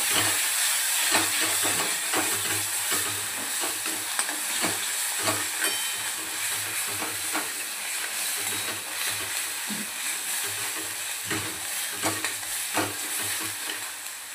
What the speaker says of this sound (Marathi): थोडासा कांदा परतून झाला की यामध्ये आपण एक मोठा चम्मचभर अद्रक लसूण पेस्ट ॲड करूया।